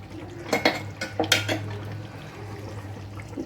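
A metal kadai is set down on the stove with a few loud clanks and scrapes close by, then a quieter stretch of faint kitchen background.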